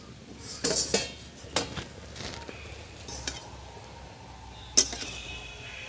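A metal lid comes off a pot of taro leaves cooking on the stove, with several bright clinks and scrapes, then a final sharp clank near the end, fairly quiet and close.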